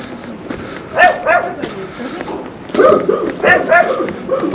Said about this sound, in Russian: Кругом собачки.